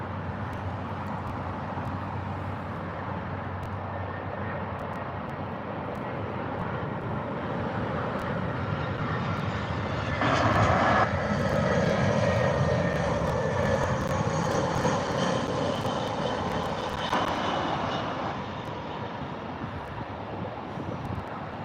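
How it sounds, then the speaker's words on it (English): EasyJet Airbus A319 arriving from Jersey and landing at London Gatwick, a steady distant jet roar that swells and thickens toward touchdown, then eases, with wind buffeting the microphone. "here comes the EasyJet A319"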